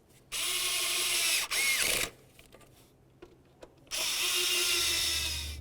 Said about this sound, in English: we're going to snug these up in a crisscross manner and then torque each of them to 50 inch-pounds